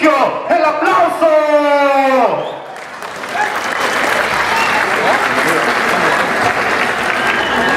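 An emcee's drawn-out shout opens over a crowd, then sustained applause from a large audience fills the rest, broad and even with scattered cheers, at a ranch livestock presentation in Tlayacapan, Morelos.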